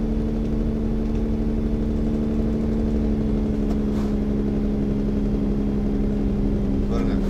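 In the American Truck Simulator game, the engine of a heavily loaded truck running downhill holds a steady, droning hum throughout, with a couple of faint clicks near the middle and end.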